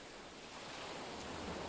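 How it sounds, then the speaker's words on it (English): Ocean waves breaking on the shoreline in the game Oceanology 5 form a quiet, even rush of surf noise, unbroken and heard alone. "sounds of the waves hitting the shoreline here"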